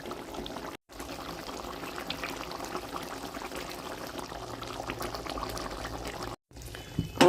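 Prawn curry with potatoes simmers in a pot, giving a soft, steady bubbling and gurgling throughout, briefly cut off twice.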